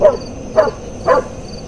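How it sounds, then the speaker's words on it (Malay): Village dogs bark in three short, separate bursts about half a second apart, moderately close, with quiet background between them and no voices. "anjing-anjing kampung tidak berhenti menyalak"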